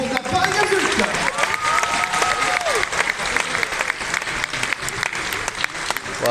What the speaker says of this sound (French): On applaudit bien fort s'il vous plaît le jury du concours de la Paris Adulte.